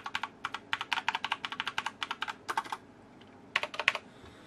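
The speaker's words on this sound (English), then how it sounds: "But the keys do sound alright though." Typing on an ADX Ultimate Gaming keyboard fitted with replacement keycaps: quick bursts of close, crisp key clicks in uneven rhythm, a short pause, then a few more strokes.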